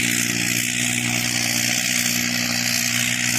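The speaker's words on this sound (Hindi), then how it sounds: "फिलहाल में है Yadav group 5210 John Deere tractor भाई" A John Deere 5210 tractor pulls a harrow across a farm field on its first round, its engine holding a loud, steady, close drone with no break or talk.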